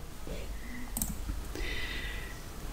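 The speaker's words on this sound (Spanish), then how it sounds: "vamos a dar un clic aquí" Mouse clicks on a PC while downloading and running an ASUS motherboard BIOS update, a few short, soft clicks over steady background hiss with faint sounds around them.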